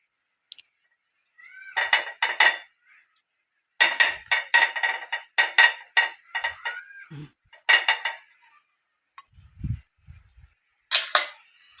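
Dal bati dough balls set one after another into a ghee-greased appe pan, giving a series of crisp metallic clinks and taps in short clustered bursts, close and fairly loud, with brief pauses and a couple of low thuds.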